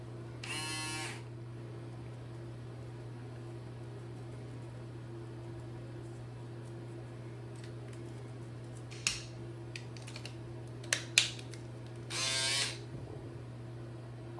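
An electric shaver used on a big beard and bald head buzzes with a steady, close motor hum that runs the whole time, broken by a few short scratchy bursts as it cuts hair; no one speaks.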